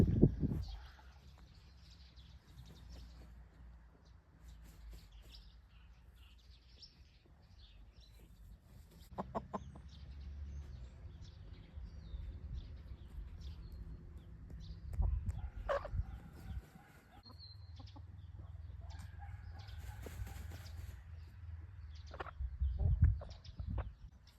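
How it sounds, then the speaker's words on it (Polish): Hens cluck and murmur nearby on and off, with occasional louder calls and low rustling between them. "A tu kury wszędzie dookoła"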